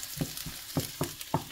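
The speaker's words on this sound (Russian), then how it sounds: "Жарится лучок." Onion sizzles in a hot frying pan, a steady crackling hiss punctuated by several rhythmic scraping stirs, close and clear with no talking.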